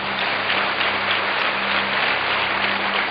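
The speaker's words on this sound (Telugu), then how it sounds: "చప్పట్లు కొడదాం." A church congregation claps together in sustained, dense applause, steady and fairly loud across the whole moment.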